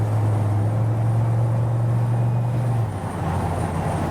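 A 1951 Chevrolet five-window pickup truck cruising down a freeway at about 56 mph, its low steady engine drone and road roar running continuously throughout, close and fairly loud with a slight dip near the end.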